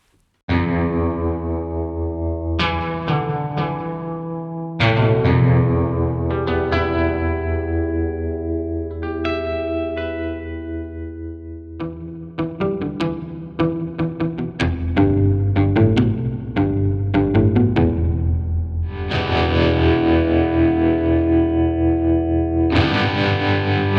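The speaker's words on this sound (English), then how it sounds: "a Danelectro hollow body electric for that absolutely classic twang" A twangy Danelectro hollow body electric guitar plays chords and single-note riffs with effects, continuous and fairly loud, with a short pause near five seconds.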